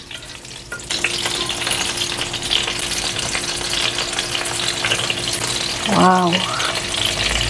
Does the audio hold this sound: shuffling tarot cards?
no